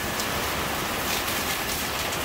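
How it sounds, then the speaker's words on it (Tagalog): Heavy rain with strong wind during Typhoon Paeng in Rizal, a dense, steady roar of downpour close by that runs unbroken and loud throughout, with no voices. "Lakas na hangin ang ulan, grabe."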